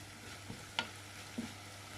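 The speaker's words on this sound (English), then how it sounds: "just give that a good stir" Nacho filling cooking in a pan is stirred, giving a soft, quiet low sizzle broken by a few brief scrapes and knocks of the spoon against the pan.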